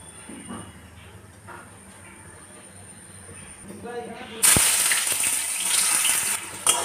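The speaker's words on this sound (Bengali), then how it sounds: "আমি পেঁয়াজটা ভেজে নিই।" Onions hit hot oil in a pan and break into a loud, steady sizzle that carries on after some quieter kitchen sounds and talking.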